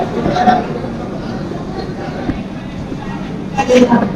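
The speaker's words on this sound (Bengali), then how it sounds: "দীনদয়ালে এখানে আমাদের ট্রেন" Ajmer Sealdah Express train standing at Deen Dayal station, with a steady low rumble of station and carriage noise, scattered clanks and a brief louder burst near the end, and faint voices in the background.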